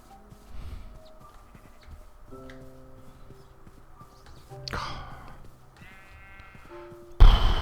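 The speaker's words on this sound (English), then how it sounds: "Here's another sheep." A sheep gives a few scattered bleats amid soft hoof-like clops, with one louder bleat midway and a sudden loud burst at the end.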